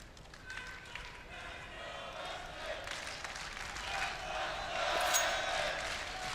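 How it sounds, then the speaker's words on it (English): Crowd at a CS:GO Major esports arena during a quarterfinal match, a broad roar of cheering that swells steadily louder toward the end while a commentator talks over it. "SK getting a lift from the crowd as we have a very important round at hand."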